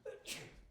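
A single sharp sneeze bursts out, close and fairly quiet, followed by a breathy tail.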